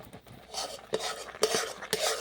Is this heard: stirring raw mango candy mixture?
yes